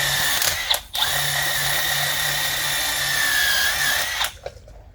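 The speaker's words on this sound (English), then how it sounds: "I typically just use a wire wheel, again on the end of an impact driver, and just give that a good cleaning motion all the way around that hub." A wire wheel spun by an impact driver grinds steadily against a Mercedes Sprinter 2500 front brake hub, a high whirring scrub running for several seconds between short pauses.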